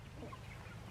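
A brief, faint murmur of chickens from young egg-laying hens on a homestead, soft clucks blending into low background noise.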